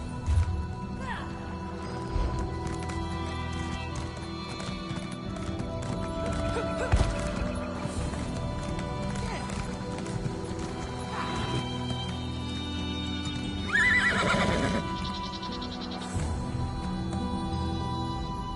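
Horses in the video game Elder Scrolls Online whinny and neigh over clip-clopping hooves, with clattering game sounds and occasional voices in the background.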